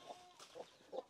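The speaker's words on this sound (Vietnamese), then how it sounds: "Ôi, nuôi gà ở trong nhà." Chickens kept indoors at a village home give three faint, short clucks spaced across a quiet moment, with no voices over them.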